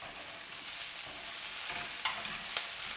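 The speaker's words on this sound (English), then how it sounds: "just keep on tossing them around because you don't want them to sit too long and burn" Brussels sprouts crisp in a pan under a constant, fairly quiet sizzle, with soft stirring scrapes and two sharper clanks late on as they are tossed around; no speech.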